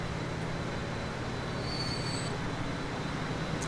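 A train in the Train Fever game starts moving, a steady rolling rail rumble with faint wheel squeal, running continuously at moderate volume with no talk.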